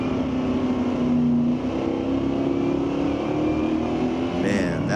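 A drag racing car at Mission Raceway Park accelerates hard down the strip with a loud, rising engine roar that fills the whole span, and a brief higher whine rises near the end.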